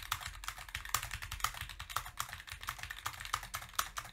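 Close, rapid typing on a mechanical keyboard, crisp clacky keystrokes in an uneven rhythm with a few heavier thocks, no talking.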